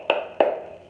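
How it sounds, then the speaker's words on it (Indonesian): Two sharp hand claps ring out close together in a classroom as part of a rhythmic cheer, bright and near, the second slightly louder, then fading into quiet. "Yuk, kita tepuk semangat"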